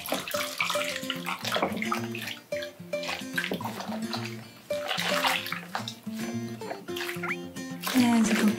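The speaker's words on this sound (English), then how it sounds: "I'll have to give you a good rinsing, okay? Whoa, just gonna rinse you off a bit." Bathwater rinsing a guinea pig in a tub, heard as steady pouring and splashing with tuneful background music running throughout.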